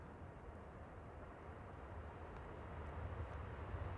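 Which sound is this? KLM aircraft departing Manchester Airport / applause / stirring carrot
KLM aircraft departing Manchester Airport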